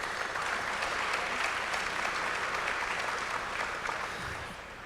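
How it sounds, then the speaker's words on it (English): An audience at an evening foundation event applauds in a dense, continuous wash of clapping that holds steady and then eases off slightly at the end. "give yourself a round of applause for just being here tonight"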